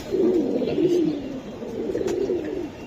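Silver Giribaz pigeons coo nearby in a throaty, rolling murmur, with two swells of cooing and faint background noise.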